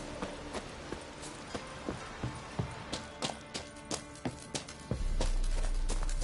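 Crisp horse hoofbeats clip-clop in a quick, regular rhythm, close and clear, in the video game The Witcher 3, then give way to a sudden low rumbling noise at the end.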